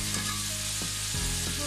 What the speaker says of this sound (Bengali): এবার মশলাটাকে আমি কষিয়ে নিচ্ছি ভালোভাবে।